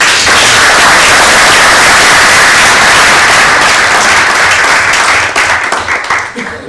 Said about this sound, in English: So may we give them a round of applause.